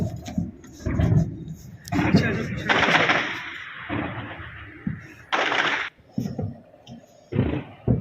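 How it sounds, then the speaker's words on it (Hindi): Cross-border shelling and gunfire near Jammu, heard as a series of distant booms and cracks in irregular bursts, some longer rumbling volleys and a few sharp reports, with no speech. "मैं जानबूझ के चुप हुआ ताकि आप समझ पाएं कि इस वक्त वहाँ पे एक शेलिंग चल रही है"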